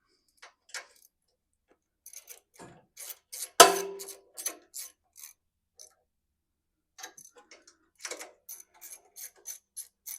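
Metallic wrench clicks and ratcheting on the carburetor studs of a Craftsman all-wheel-drive lawn mower, heard as sparse, close taps and short ratchet bursts with gaps of quiet between them.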